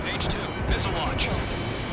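A missile launch in Ace Combat 7 sounds as a rushing, roaring burst of jet and rocket noise with sharp whooshing surges, heard under a voice talking.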